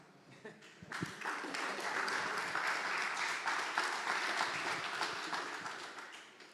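A demo day audience at a startup pitch event breaks into applause, starting with a few scattered claps and quickly building to sustained, dense clapping that tapers slightly at the end.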